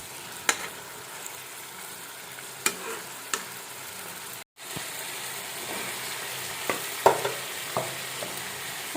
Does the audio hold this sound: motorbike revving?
no